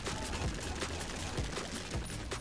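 Rapid video game gunfire with bouncing shots in Crab Champions, a dense, continuous volley of loud shots mixed with impacts and game sounds, with no talking.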